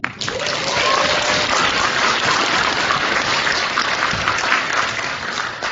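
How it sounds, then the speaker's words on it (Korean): Sustained applause from a crowd at a Korean political rally, a dense steady wash of clapping lasting several seconds with no talk over it. "헌법재판소 재판관들께 다시 한번 박수"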